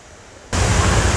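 Steady broadband rush of a low-flowing waterfall in Ithaca, New York, quiet at first and then suddenly loud and close, a dense continuous wash of falling water with no talk.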